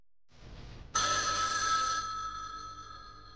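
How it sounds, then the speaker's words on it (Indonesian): A hotel room telephone rings once, a bright electronic trill starting abruptly and fading slightly, heard alone after a brief low rustle. "Tiba-tiba telepon di kamar berdering"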